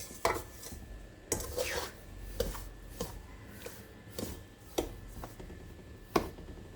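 Semolina (rava) and jaggery being mixed by hand for laddoo, a series of dry, gritty rubbing strokes in a steady rhythm, close and fairly quiet, with no one talking.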